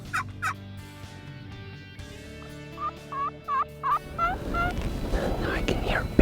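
A wild turkey tom in Minnesota gobbles in several short rattling bursts, moderately near, with a few faint calls before them and rustling noise after.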